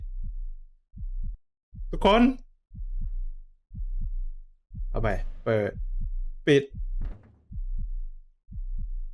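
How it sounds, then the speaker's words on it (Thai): Slow, regular heartbeat thumps from a Roblox horror game pulse throughout, a low double-beat repeating about once a second while a voice speaks over several of them. "ทำไมเสียงหัวใจเต้น"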